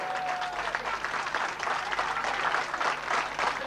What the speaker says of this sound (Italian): Accompagniamoli con un grande applauso, un ultimo grande, grandissimo applauso!